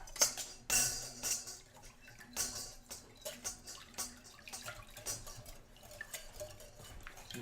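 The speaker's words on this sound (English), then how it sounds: "take the whisk and stir it up" Waffle batter being stirred with a whisk in a bowl, giving soft, irregular wet scrapes and light clinks at close range, fairly quiet, without voices.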